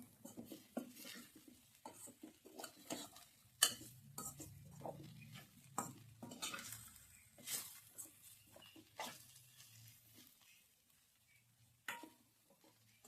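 Masala dry-roasting in a pan while being stirred, with scattered scrapes and clinks of a spoon against metal over a faint, quiet background; the sounds come in uneven bursts.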